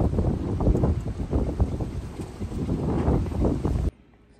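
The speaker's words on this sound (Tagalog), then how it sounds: "Pero sobrang lakas ng hangin kasi yung bagyo ngayon ang pasok." Strong typhoon wind gusting in Taiwan, a loud, continuous roar with buffeting bursts on the microphone that stops abruptly near the end.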